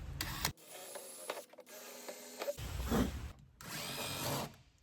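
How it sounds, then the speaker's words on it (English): Power drill boring holes during a boat tilt helm installation, running in two sustained bursts separated by a pause, close and fairly loud with a steady whine. "I'm going to drill my other 2 holes"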